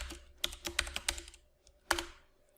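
Keys clack on a computer keyboard in a short burst of about six quick taps, then a pause and one final keystroke, close and quiet.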